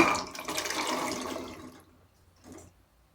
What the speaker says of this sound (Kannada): ಕಾಳುಗಳು ಮುಳುಗೋಷ್ಟು ನೀರನ್ನು ಸೇರಿಸ್ಕೊತಾ ಇದ್ದೀನಿ